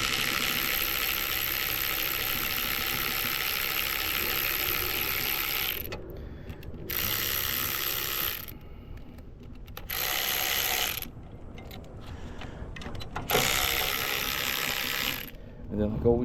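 A ratchet fitted with an extension loosens motor bolts during an Alltrack M3 motor replacement. Loud, close bursts of rapid clicking are broken up by short pauses.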